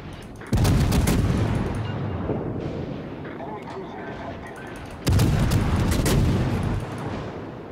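Heavy rapid naval gunfire from the cruiser Atlanta in World of Warships, two loud sustained salvos of booming shots with rumbling battle noise between them.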